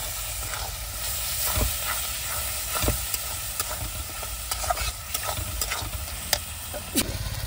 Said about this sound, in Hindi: मसाला वगैरह बढ़िया से फ्राई हो गया